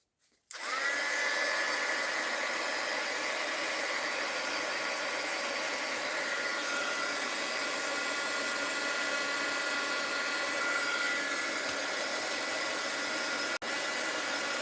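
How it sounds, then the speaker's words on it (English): A heat gun switches on abruptly and blows a loud, steady, whooshing hum over a mixed-media journal page to heat-set it, running continuously with a brief dip just before the end. "Now, I'm going to heat set it, though, if I have my heat gun plugged in."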